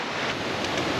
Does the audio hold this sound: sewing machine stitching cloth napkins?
no